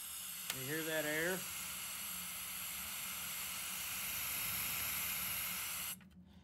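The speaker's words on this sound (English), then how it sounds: "You hear that air?" A steady, fairly faint rush of air hisses from an electric ignition oil burner throughout. A brief voice is heard near the start, and the hiss stops abruptly near the end.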